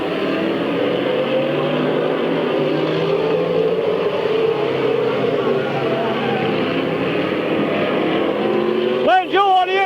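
Race cars at Midvale Speedway roaring around the track in a steady loud engine drone, with a commentator talking over it throughout.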